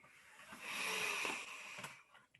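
Slow, deep breathing during a qigong exercise: a long, airy inhale-exhale that swells to a steady hiss through the middle and fades, close and fairly quiet, with no talking.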